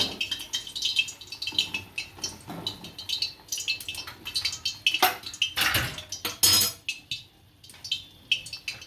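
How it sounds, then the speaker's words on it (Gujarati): Fried bread gulab jamun balls lifted from hot oil with a metal strainer, a loose run of clinks, scrapes and rattles of metal against the pan, close and uneven, with no talking. "હવે આને સાહણીમાં નાખી દઈશું અને તેલમાં બધા કાઢી લઈશું।"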